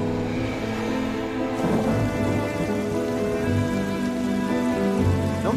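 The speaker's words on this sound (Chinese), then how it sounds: "要下雨了。" Steady rain falls with a low rumble of thunder rolling underneath, a continuous wet hiss broken by a few deeper booms.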